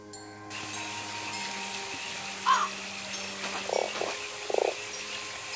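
A frog croaks in a horror video game set in a strange house, with a few short separate croaks over a quiet ambient drone and faint tones, fairly soft and with no talk.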